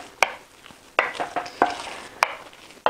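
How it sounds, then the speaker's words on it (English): Cassava water fufu stirred in a cooking pot, sharp scraping and thick, sticky slaps of the spoon against the pot in an uneven rhythm, close and fairly loud with no talking. "we just keep stirring, mixing the one cooking at the bottom with the one on top"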